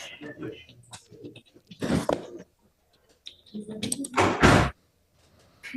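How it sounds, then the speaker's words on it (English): Doors slam inside a courtroom before a trial session. Two or three heavy thuds and bangs stand out over murmured voices and shuffling background noise. "Somebody's slamming doors over there."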